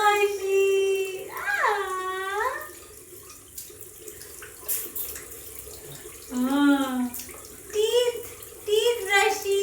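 Tap water runs in the background while an 8-month-old baby's hands and face are washed at nighttime, a soft steady flow under an adult's sing-song voice and the baby's sounds.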